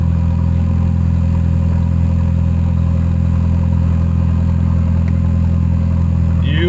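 A big-turbo Volvo engine runs with a 3-inch open downpipe and no exhaust, giving a loud, close, steady droning rumble that holds unchanged throughout, with no talk heard.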